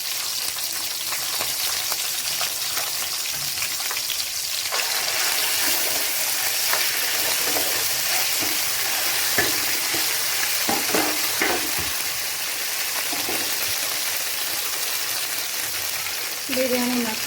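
Spices, bay leaf and ginger garlic paste fry in hot oil for chicken fry piece biryani, a dense steady close sizzle with intermittent stirring clinks and scrapes that continues for the whole stretch.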